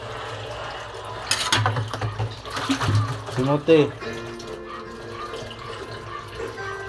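A kitchen faucet runs while dishes are washed at home, bursts of splashing and clinking rising and falling close by, mixed with people talking throughout.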